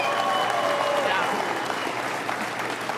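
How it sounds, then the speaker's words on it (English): Audience applauding Alberta's firefighters and first responders at a UCP election victory address, a steady dense wash of clapping throughout with voices mixed in. "I'd ask all of us to stand here and applaud our heroes of Alberta."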